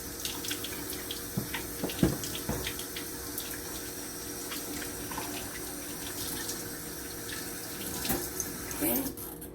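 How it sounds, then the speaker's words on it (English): Hands washed under a running kitchen tap while cooking meatloaf, a steady close splash and hiss of water throughout with small clatters and a louder spray near the end. "always wash your hands"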